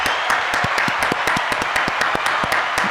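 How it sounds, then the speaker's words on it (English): A studio audience claps for a crew who built a talk-show set, a steady dense patter of many hands with sharper individual claps standing out, sustained at moderate loudness throughout. "Another round of applause for these people."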